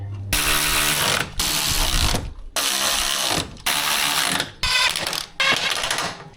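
Ratchet wrench tightening the transmission bolts on a Range Rover 4.4L SDV8, a series of six loud, close bursts of fast clicking separated by short pauses as the handle swings back.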